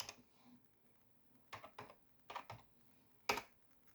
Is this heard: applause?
no